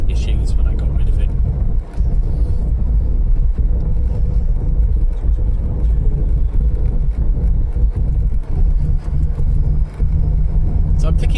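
Ford Fiesta MK4 1.3i hatchback driving, its engine a steady low rumble with road and wind noise throughout, heard from inside the cabin with a few brief dips.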